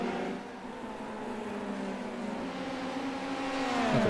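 A Formula 3 race car engine in a sim racing game drones at high revs, with its pitch sliding down and then climbing again. The engine sounds steady and continuous, with a faint second car tone at the end.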